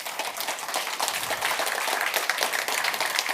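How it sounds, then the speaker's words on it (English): An audience at the CogX festival stage gives a steady round of applause, dense clapping throughout at moderate volume, with no voices over it. "Can we give them a massive round of applause?"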